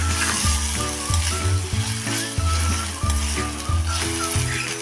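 Tomato, ginger and crushed garlic sautéing in a pan for broccoli curry, a loud continuous sizzle broken by regular, rhythmic stirring strokes roughly every half second.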